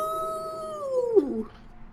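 A person mimics a wolf with a short howl, a sustained tone that bends downward and cracks near the end, lasting under two seconds at moderate loudness.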